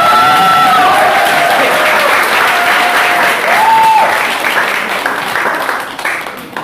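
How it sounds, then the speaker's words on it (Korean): Sustained, loud applause from an audience after a lecture, a steady wash of clapping that fades slightly toward the end, with brief talk over it. "우리 김규석 선배님께 다시 한번 큰 박수 부탁드리겠습니다"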